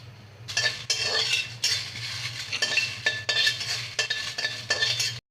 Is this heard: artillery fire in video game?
no